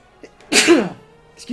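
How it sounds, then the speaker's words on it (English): A single sharp human sneeze bursts out up close, loud and brief, with quiet room noise before and after. "I'm gonna sneeze."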